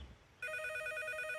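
A cartoon telephone starts ringing abruptly, giving a bright, trilling electronic bell that pulses steadily and stays clear and fairly close.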